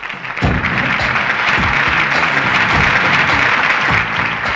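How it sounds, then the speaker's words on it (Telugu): A crowd applauds steadily at a college prize presentation, dense and close clapping that keeps going throughout with no pauses. "క్లాప్స్!"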